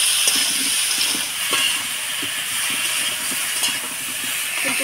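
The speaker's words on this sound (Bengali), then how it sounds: "এবার এই তেলের মধ্যেই ফুলকপিগুলা অল্প হলুদ লবণ দিয়ে ভাজি নেব।" Cauliflower pieces frying in hot oil with a little turmeric and salt, giving a steady, loud hiss and crackle throughout with faint scattered pops and no talking.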